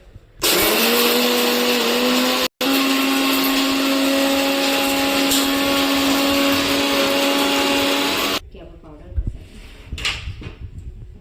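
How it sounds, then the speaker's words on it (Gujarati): A mixer grinder crushing thandai spices with saffron whirs loudly and steadily for about eight seconds with one brief cut, then shuts off, leaving quieter clinks and rustles. "હવે આને આપણે મિક્સરમાં ક્રશ કરીશું"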